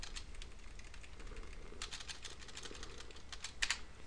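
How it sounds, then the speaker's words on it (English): Rapid keystrokes on a computer keyboard clatter in irregular bursts over a steady background hiss, with a sharper cluster of clicks near the end. "I think I can actually go in and type it, though."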